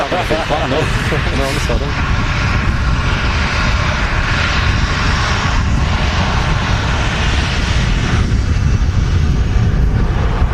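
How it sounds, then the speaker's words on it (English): A Ryanair airliner taxis off the runway at an airport, its engines giving a continuous close rumble and whine, with people talking over it at the start. "That Ryanair just vacating from Berlin in front of us"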